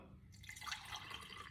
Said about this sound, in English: we're going to pour some water